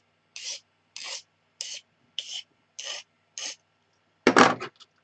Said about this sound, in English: smooth it out with some smooth sandpaper